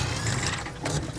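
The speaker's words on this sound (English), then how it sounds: "Handbrake on" A car handbrake is pulled on with a dense, steady ratchet clatter that holds at close range for about a second, loud and alone with no voices.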